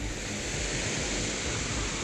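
Floodwater from the overflowing Cibuntu river in Sukabumi roars in a dense, steady rush after hours of heavy rain, a constant broadband torrent with no pauses.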